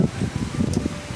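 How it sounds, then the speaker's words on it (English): Strong outdoor wind buffets the microphone in uneven low gusts, a continuous rumbling roar with no voices. "I'm outside and it's really windy."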